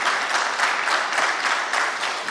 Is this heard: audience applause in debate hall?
yes